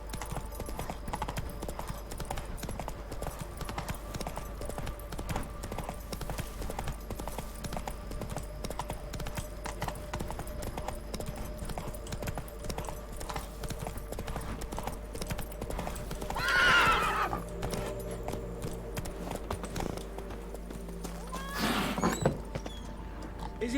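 Steady hoofbeats of the horse Roach galloping in The Witcher 3, a continuous clip-clop rhythm throughout, with a brief whinny partway through and a bright game soundscape underneath.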